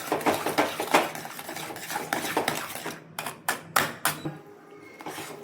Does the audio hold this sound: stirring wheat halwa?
yes